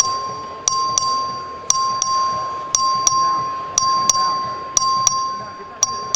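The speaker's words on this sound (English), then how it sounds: "The clerk will ring the bell." A House floor clerk's bell for a record vote rings in sharp, repeated short strikes, about a dozen bright dings at uneven intervals over a quiet room.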